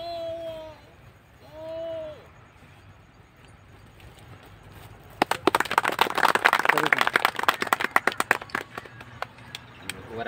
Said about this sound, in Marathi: आपण सर्वांनी एकदा जोड्या टाळ्या वाजून अभिनंदन करू